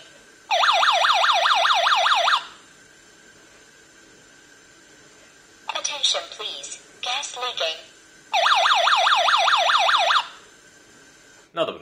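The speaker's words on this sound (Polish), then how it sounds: "jak działa czujnik gazu XBLITZ DG3" An XBLITZ DG3-1 gas and carbon monoxide detector sounds its alarm: two loud bursts of rapid warbling electronic beeps, each about two seconds long, with a short stretch of clattering handling noise between them.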